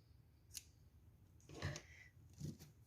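Scissors snip crochet yarn at a quiet close range, making a few brief crisp clicks and cuts spaced about a second apart over low background noise.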